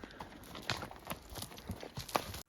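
Pack horses' hooves clip-clop at an easy walking pace in the Rockies, a steady series of soft knocks nearby, fairly quiet overall.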